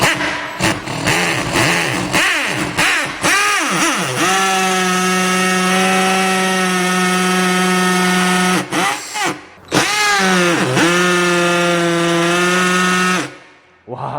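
A Tool&Tool 18V cordless hammer drill, a Korean-brand site model, whines loudly and steadily as it bores into material, pitch sagging under load then holding, with a brief pause and restart before cutting off at the end.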